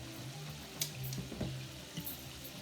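Tap water runs into a pan while string beans cook, a soft continuous trickle with faint sizzling underneath and a few light clinks of utensils, heard alone without talk.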